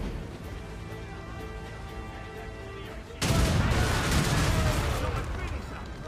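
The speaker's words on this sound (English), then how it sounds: "the burning oil barrels. They slow down enemy ships and deal a great amount of damage." Naval battle in the Assassin's Creed Rogue game, with burning oil barrels against enemy ships: a quiet stretch of music and ambience breaks into a sudden loud burst of cannon fire and explosions that rumbles on for several seconds.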